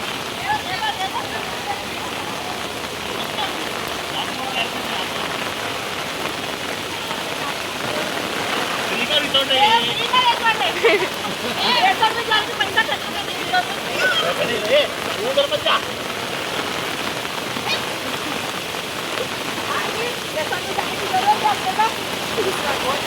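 Steady heavy rain in Nalasopara during days of non-stop downpour, a dense, even hiss of water with splashing and faint distant voices underneath.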